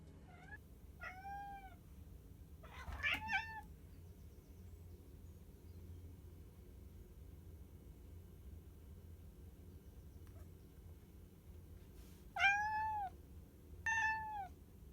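A cat meows a few times with pauses between calls, a pair of short meows early, then two louder meows near the end, over quiet room hum inside a narrowboat.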